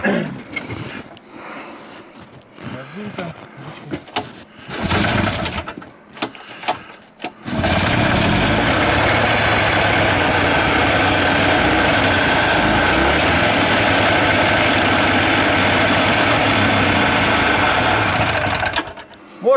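A Buran snowmobile with a modified carburetor, tipped on its side, starts after a few quiet pulls and clanks, then runs at a loud, steady, buzzing idle close by for about twelve seconds before cutting off.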